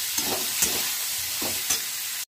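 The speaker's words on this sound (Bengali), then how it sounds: "বরবটিটাকে দিয়ে আমি লাল করে ভেজে নেব" Yardlong beans (borboti) frying in a pan with a continuous close sizzle and a few stirring scrapes, ending abruptly in silence, with no talking.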